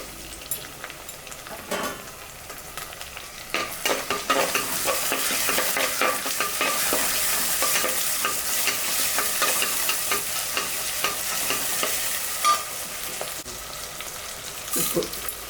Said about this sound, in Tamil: நல்லா வதக்கிக்கலாம். தக்காளியும் போட்டுக்கலாம்.